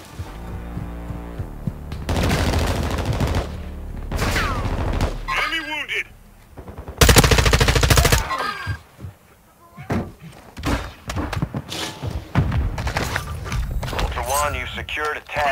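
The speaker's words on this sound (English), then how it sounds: "Taking effective fire!" Machine gun fire in Call of Duty Modern Warfare, with loud, close bursts of rapid shots in several clusters amid explosions, slams and game radio chatter.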